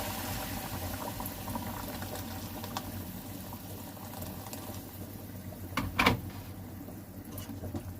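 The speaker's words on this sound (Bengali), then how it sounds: "তো এবার দিয়ে দেব গরম জল" Hot water poured into a pan of partly cooked potatoes and sautéed spice paste for a tangy-spicy bola fish curry, giving a steady low bubbling boil with a brief louder splash near the end, no talk.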